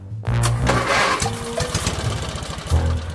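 A toy-scale engine sputters and cranks repeatedly without catching, a loud, close, uneven chugging with knocking pulses that keeps stalling and restarting over about three seconds.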